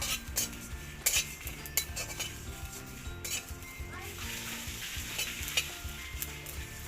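Spices dry-roasted in a pan for a jujube (bogori) pickle, with a steady close sizzle under repeated scraping and clinking as a utensil stirs them against the metal; no one speaks.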